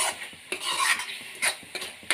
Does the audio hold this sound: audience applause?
no